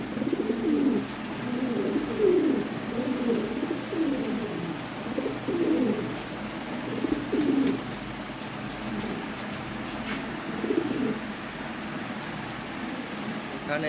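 Lahore Siraji pigeons cooing in a continuous, rolling murmur from several birds close by, with soft rustling and faint background hum.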